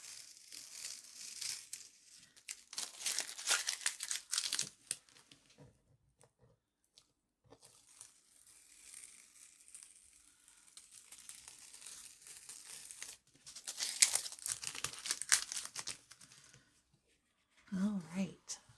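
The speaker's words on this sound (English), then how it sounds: "Taking the tape off is one of the best parts of the process." Masking tape is peeled off an acrylic painting in several bursts of crinkly tearing, close and fairly quiet, separated by pauses, with a brief voice at the end.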